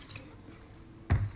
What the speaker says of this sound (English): we're just gonna pour it in her hair